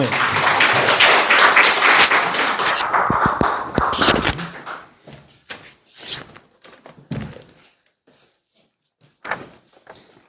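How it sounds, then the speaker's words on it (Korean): A church congregation claps to welcome a missionary speaker, a loud burst of dense applause that thins out after a few seconds into scattered claps and thumps, with brief spoken remarks later on. "박수로 환영할까요?"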